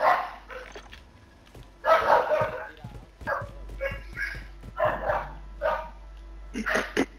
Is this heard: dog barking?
yes